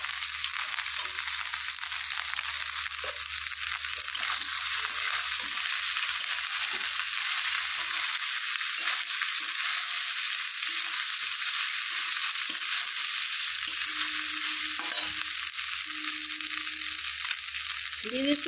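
Leftover cooked rice fries in a hot pan with already browned ingredients, giving a continuous loud sizzling hiss with occasional scraping stirs and brief faint voice-like sounds.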